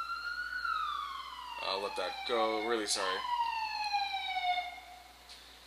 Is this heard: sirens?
yes